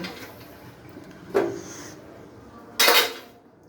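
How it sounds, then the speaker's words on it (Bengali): Hot metal burner parts from a kitchen gas stove are lifted off and set down: two distinct metallic clanks about a second and a half apart, the second louder, over a quiet room. "আমরা বার্নার খুলব এগুলো যেহেতু গরম অবস্থায় আছে একটু আলাদা জায়গায় রাখছি"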